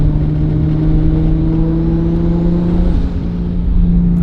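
A Nissan R32 GTR engine drones loudly and steadily at high speed on a downhill run, with a sustained whirring tone that dips briefly before holding on; no talk.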